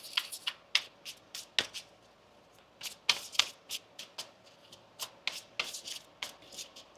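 Tarot cards shuffled by hand in a quiet room, a rapid series of crisp riffling and slapping bursts in uneven clusters, close and clear with no talking.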